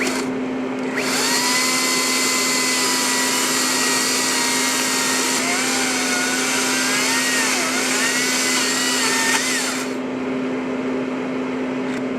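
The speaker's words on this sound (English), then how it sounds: "Jordan's plan around this is to cut the top off using the chainsaw" A chainsaw engine drones loudly and steadily for about nine seconds, its pitch wavering as it cuts the top off a tree stump at a campsite, then cuts off.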